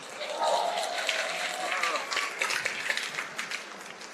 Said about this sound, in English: Let me hear some more claps